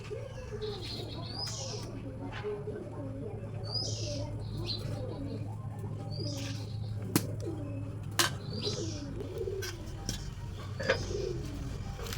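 Pigeons coo in repeated low, throaty phrases at a steady pace, with a few higher chirps, under a constant low hum and sparse clicks in a home setting.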